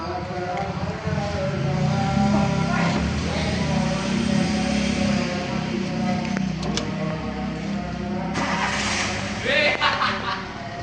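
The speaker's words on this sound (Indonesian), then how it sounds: "hidupkan mesin dan AC." A car engine runs at a steady idle with a low, even hum throughout, and a person talks over it while a few brief clicks and rattles are heard near the end.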